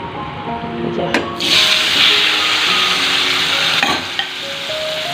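Chopped tomatoes drop into hot turmeric-tinted oil and erupt into a loud, steady hissing sizzle that holds for several seconds, with a clatter of stirring near the start and a brief scrape later.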